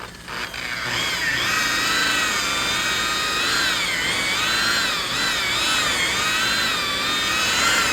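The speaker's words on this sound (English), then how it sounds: "get my little trusty buffer out here. I use a wool pad" A power buffer with a wool pad polishes a plastic car headlight, giving a loud, steady motor whine whose pitch wavers up and down as pressure shifts, with no talking.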